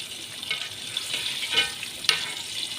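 Crispy homemade fried chicken bubbles in oil with a soft, steady sizzle, while a utensil stirs and clinks now and then nearby.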